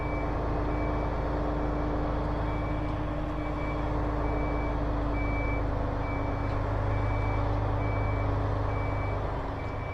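A truck and trailer backs up while a regular reversing beeper sounds over a steady diesel engine rumble, continuous and moderately close, with no voices.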